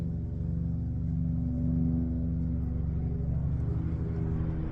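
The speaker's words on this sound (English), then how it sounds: "I think that's a plane." A steady, loud low rumble of an airplane engine flying close overhead, droning continuously without letup.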